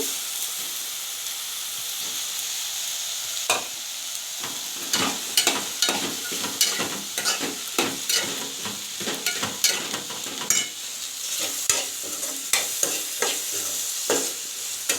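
Onion, tomato and chopped garlic sautéing in a pan for a drumstick-leaf kootu, a constant hissing sizzle punctuated by frequent rhythmic stirring scrapes, loud and close with no talk.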